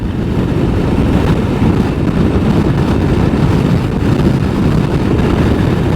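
Steady, loud wind buffeting the microphone while riding a motorcycle through the Black Hills toward Wyoming, a constant low roar mixed with engine rumble and no talk.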